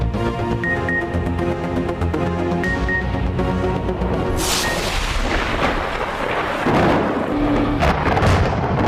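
Thunderstorm over Lahore with heavy, stormy rain and booming thunder, loud and continuous, with rumbles swelling and breaking through a dense wash of downpour and a backing music bed.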